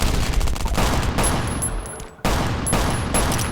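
A revolver fires in the survival game Last Island of Survival, dense loud gunfire in rapid bursts with a brief drop to near silence partway through before the shooting resumes.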